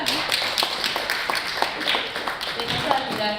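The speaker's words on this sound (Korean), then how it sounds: "여러분 다시 한번 응원의 큰 박수 부탁드립니다" An audience claps steadily at a Korean stage talk event on sleep apnea, the applause continuous and fairly loud throughout, with a voice audible over it.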